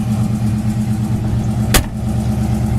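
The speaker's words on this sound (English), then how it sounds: "Door shuts nice." One sharp, solid thud as the door of a 1967 Ford Mustang shuts, heard close and alone over a steady low engine-like rumble.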